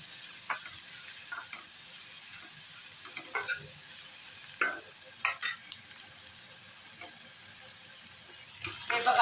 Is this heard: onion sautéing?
yes